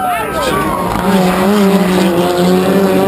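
A rallycross race car at a 2012 Global RallyCross round at New Hampshire Motor Speedway drifts through a turn, its engine droning loud and steady with some tire scrub, under a commentator's voice.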